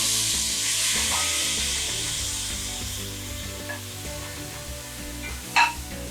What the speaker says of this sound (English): After a minute of stirring, we can add the tomato.